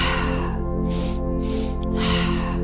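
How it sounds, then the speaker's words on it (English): Three breath cycles in a row, airy inhales through the nose and breathy exhales through the mouth, close and fairly loud over a steady low background hum. "do the breaths in through the nose and out through the mouth"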